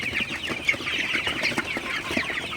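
Sonali super hybrid chickens on a poultry farm cluck and squawk continuously in a close, busy flock, with many overlapping calls and no speech.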